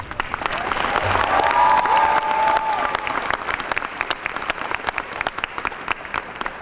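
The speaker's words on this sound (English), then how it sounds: "Please give them another round of applause." Sustained applause from a high school graduation audience at a 2017 ceremony, dense clapping that swells early then thins into scattered claps toward the end, with faint voices beneath.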